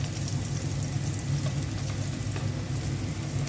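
Ginger-garlic paste hits a pan of lightly fried onions and sizzles with a dense, even crackle that holds steady throughout at moderate loudness, close by.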